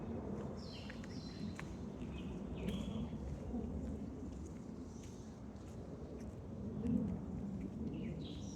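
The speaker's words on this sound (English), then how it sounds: "We can hear the sweet sounds of birds they're making" Birds chirp and call intermittently in Inwood Hill Park, New York, light high-pitched tweets scattered over a steady low outdoor rumble, fairly faint and at a distance.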